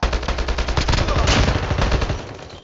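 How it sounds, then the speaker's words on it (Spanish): Rapid automatic gunfire in Call of Duty: Mobile battle royale, a loud, dense burst of shots running nearly three seconds before trailing off, with no talk over it. "Me están disparando"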